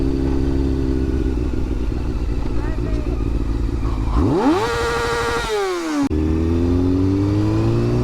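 Honda CBR sport motorcycle engine idling with a low rumble, then revving sharply up and dropping back before settling into idle again, loud and close, with some mechanical clatter.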